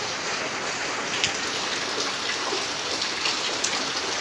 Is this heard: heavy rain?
yes